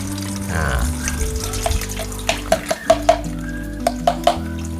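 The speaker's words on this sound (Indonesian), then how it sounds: "Selanjutnya kita saring nih. Kita saring, airnya saja kita ambil." Fermented rice liquid strained and poured, a running stream of water splashing into a container with several sharp drips and clinks, close and fairly loud, with faint speech mixed in.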